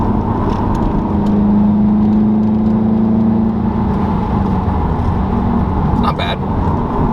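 A 2017 Subaru WRX STI turbocharged engine heard from inside the car, holding a raised rev that hangs and then drops to a lower steady drone, with constant road and cabin noise underneath.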